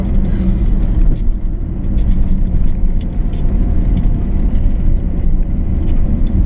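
A car engine drones steadily and loudly at low pitch under engine braking, descending the Col de Romme mountain road near Cluses toward a hairpin bend, a continuous rumble with no voices.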